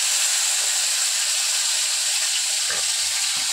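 Chopped tomatoes hit hot oil in a vegetarian cauliflower and potato curry, giving a loud, steady sizzle and hiss that runs the whole time, with a few soft stirring knocks near the end.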